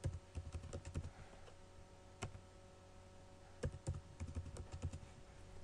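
Quiet keystrokes on a computer keyboard as a password is entered, a close, faint patter of clicks in short bursts with pauses between them.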